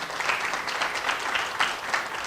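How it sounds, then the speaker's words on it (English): Steady applause fills a hall at a STEM Girls Day 2013 keynote as the audience welcomes the speaker, a dense, even patter of many hands with a few louder claps and no talk over it. "Let's welcome with a round of applause."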